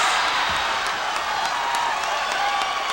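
A crowd at a 1998 AVP beach volleyball tournament cheers and roars steadily, a dense broad wash of noise that holds for the whole stretch.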